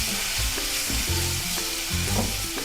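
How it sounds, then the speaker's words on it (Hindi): Onions frying in oil in a kadhai for kadhai paneer, a steady close sizzle with light stirring and utensil clinks running throughout, no voices. "अच्छे से भून लेंगे प्याज को"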